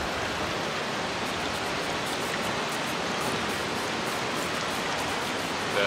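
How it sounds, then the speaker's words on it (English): Steady, dense rush of falling water from an underground waterfall in the video game Somerville, a constant broadband roar holding the same level from start to finish with no voices. "Underground waterfall."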